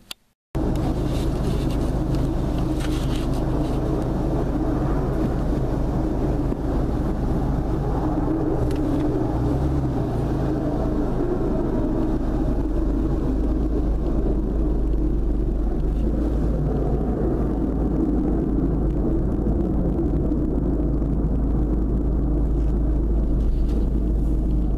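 A Volkswagen MKVI GTI with a short throw shifter fitted, driven on a test drive, giving a continuous low road and engine rumble from inside the cabin that stays steady for the whole stretch, with no talking.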